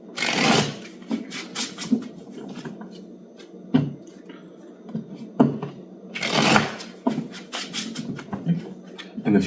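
Tarot cards being shuffled by hand in repeated riffling bursts, close and moderately loud, with quieter rustling between the flurries.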